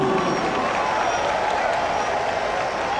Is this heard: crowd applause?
yes